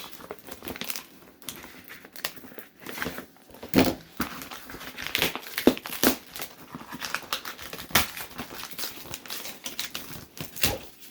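A mail package wrapped in heavy tape is torn open, with irregular crinkling, ripping and sharp snapping of tape and cardboard up close, continuing in uneven bursts throughout.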